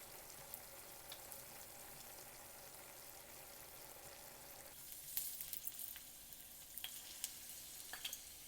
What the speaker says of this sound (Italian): Un metodo rapido per soffriggere l'aglio è questo, in modo che tutto lo spicchio sia dentro l'olio e soffriga prima.